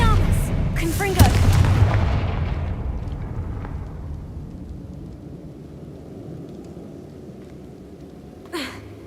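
Confringo, an explosive spell in Hogwarts Legacy, goes off as one loud booming blast near the start and rumbles away into quieter game ambience, with a smaller thump near the end.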